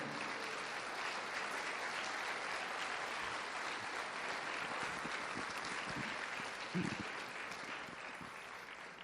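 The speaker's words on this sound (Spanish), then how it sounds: "¿Quién le da un aplauso al Señor?" Congregation applauding in a church service, a dense sustained wash of many hands clapping at moderate distance, holding steady for several seconds before easing slightly, with a few louder thumps near the end.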